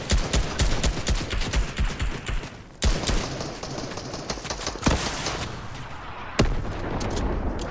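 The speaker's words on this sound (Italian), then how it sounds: "Mi sparano un po' dappertutto." Dense, continuous gunfire from the video game Fortnite, rapid overlapping shots with several louder blasts standing out, filling the whole stretch without pause.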